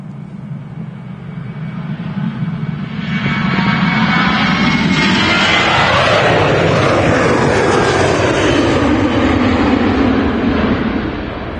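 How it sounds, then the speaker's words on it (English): A Ryanair airliner departs Manchester Airport, its jet roar building over the first few seconds into a loud, sustained rumble that stays steady and close, with broad engine noise and a sweeping pitch shift as it passes. "we've got Ryanair now departing"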